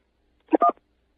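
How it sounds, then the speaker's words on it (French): Telephone keypad tone from pressing key 1 on a handset, a single short electronic beep in near silence, split into two brief bursts. "appuyez sur la touche 1"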